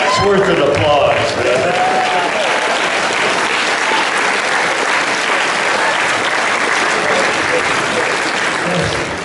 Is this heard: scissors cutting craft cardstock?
no